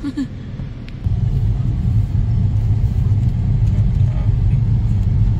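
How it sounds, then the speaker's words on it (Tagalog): Road traffic rumbles in a provincial town in the Philippines, a loud continuous low engine drone from nearby cars that sets in after a second and holds steady. "Bakit ang traffic?"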